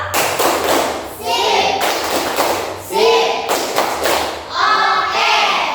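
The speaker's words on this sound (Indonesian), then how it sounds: "Betul, tepuk tangan nih." In a classroom, children clap out loud rhythmic thumping patterns in bursts while their voices chant along between the claps.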